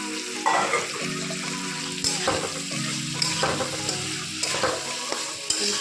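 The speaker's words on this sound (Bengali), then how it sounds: "কষাতে কষাতে এবার কচুগুলো দিয়ে দিচ্ছি, দিয়ে ভালো করে মিশিয়ে দিচ্ছি।" Taro pieces hit a pan of frying masala and are stirred through, a continuous sizzle with repeated scraping strokes and occasional clinks from the spoon.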